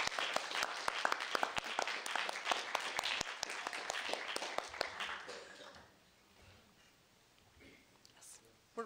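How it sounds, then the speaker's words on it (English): Audience at a school district spelling bee clapping for the four remaining spellers, a burst of fairly close, distinct claps that fades out after about six seconds, leaving a quiet room. "let's give a round of applause for our four remaining spellers"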